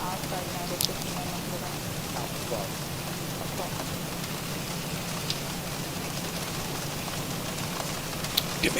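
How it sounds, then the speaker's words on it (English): Simulated rain hisses steadily on the surfaces of an airliner cockpit in the X-Plane 12 flight simulator, a soft continuous patter with occasional faint drops, while a voice talks over it. "I can hear the rain, but I don't see anything going on here."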